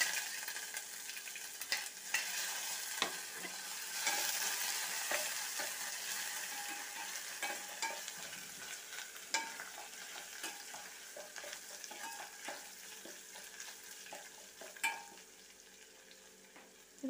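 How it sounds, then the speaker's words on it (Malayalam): Crushed ginger and garlic frying in oil in a pan for rasam give a steady, hissing sizzle throughout, dotted with faint spatula clicks and stirs, close but quiet. "ഇതിലേക്ക് നമുക്ക് ഇഞ്ചിയും വെളുത്തുള്ളിയും ചതച്ചത് ഇട്ട് കൊടുക്കാം"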